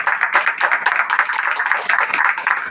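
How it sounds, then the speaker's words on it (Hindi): A church congregation claps together for God during a worship service, a dense, steady burst of many hands applauding close by with no talk over it. "ताली बजाओ परमेश्वर के लिए।"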